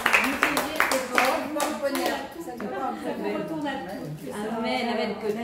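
An audience at a religious talk applauds with a burst of sharp hand claps, loudest at the start, then thinning out as a voice speaks over it.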